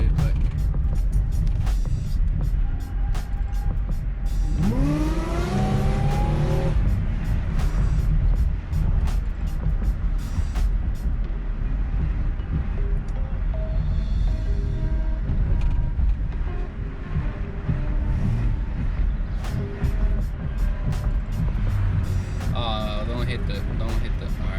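A Buick Regal GS with a ZZP Stage Two tune accelerates hard from a standstill on a city street, its engine roaring loudly and rising in pitch from inside the cabin while someone talks over it.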